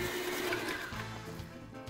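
An electric mixer whirs steadily as it creams butter with white and brown sugar, a close, continuous motor hum that dips slightly midway, with no talking.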